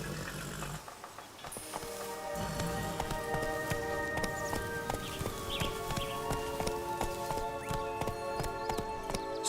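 Horse hoofbeats from The Witcher 3, a steady clip-clop gait running under rain and low game music, fairly close and even in rhythm.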